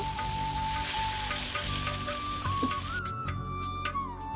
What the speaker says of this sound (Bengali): এরপরে মশলাটা কষানোর জন্য সামান্য পানি দিয়ে দেব